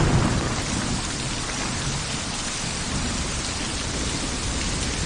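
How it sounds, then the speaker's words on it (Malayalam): Heavy rain pouring steadily outdoors, a dense loud hiss of drops on surfaces with low rumbling underneath, constant and uninterrupted, no voices. "അതിവിടെ നല്ല മഴ, ഒന്നും കേൾക്കുന്നില്ല"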